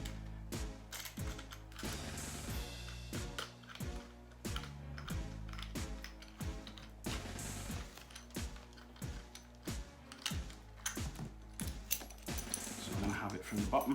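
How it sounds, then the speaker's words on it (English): A camera mount on an Ares Amoeba AM-008 airsoft rifle is unscrewed, giving close, rapid ratcheting clicks and small metallic turning sounds in a steady rhythm, with a little handling noise. "So we do need to unscrew this actually."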